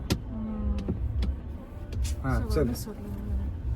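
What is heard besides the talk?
car engine running during a driving lesson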